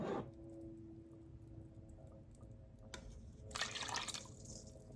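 Tap water runs into a measuring cup for a one-cup measure, with a quiet trickle and drips that swell into a louder splashing pour near the end.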